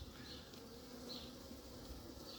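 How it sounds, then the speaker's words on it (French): A swarm of honeybees buzzes steadily while calling the colony together during a swarm capture, a faint, continuous insect hum that holds at an even level throughout and carries no speech. "je pense qu'il y a des abeilles qui battent le rappel, c'est logique"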